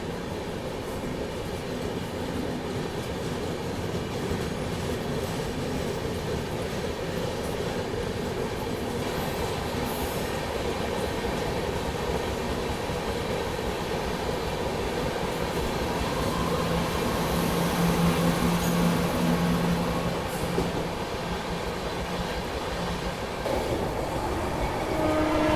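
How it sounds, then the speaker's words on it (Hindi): Bihar Sampark Kranti Express picking up speed, a steady loud rumble of wheels and carriage noise that swells and rises in pitch, with tonal squeals and a horn-like drone near the end, no voices. "अच्छी खासी रफ्तार पकड़ ली अपनी ट्रेन ने"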